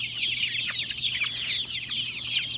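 A flock of Indio Gigante chickens cluck and chatter continuously nearby, many overlapping calls at moderate loudness with a low hum underneath and no talk.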